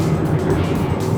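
A supercar with traction control off roars under hard acceleration, a dense continuous engine drone filling a brief moment, close and loud.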